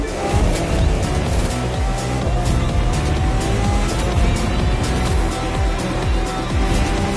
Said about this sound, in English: Those engines are going to make for a loud wake-up call if anyone's sleeping in this resort area today.